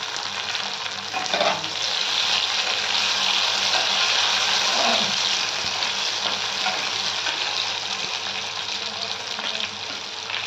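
Tomatoes frying and being stirred in a pan for a spicy prawn curry, with a steady, close, loud sizzle throughout and occasional scrapes of the spoon against the pan.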